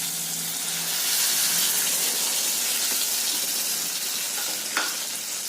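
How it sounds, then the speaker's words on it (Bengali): Soya chunks stirred into sauce in a hot frying pan for Indian soya chilli, giving a steady close sizzle with soft stirring and scraping throughout and one brief louder scrape near the end. "সয়াবিনগুলো এতে দিয়ে দেবো, দিয়ে ভালো করে একটু মিশিয়ে নেব।"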